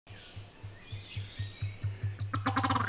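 A turkey from Mexico calls with a rapid series of squeaky, honking notes like a rubber chicken, speeding up and growing louder toward the end, close and clear.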